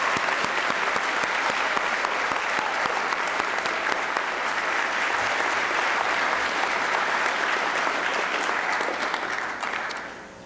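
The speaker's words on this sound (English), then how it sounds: "Would you join me in a round of applause to welcome these new honors members of the National Honor Society?" An audience at a high school National Honor Society induction ceremony gives a long, sustained round of applause. The dense clapping stays steady and full for about ten seconds, then fades out at the close.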